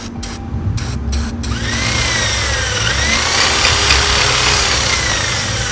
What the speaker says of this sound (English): some spray, degreaser. We're gonna spray it down